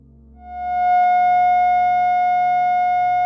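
A steady synthesized tone with a bright harmonic overtone series fades in and holds evenly, loud and pure, with a faint low hum beneath.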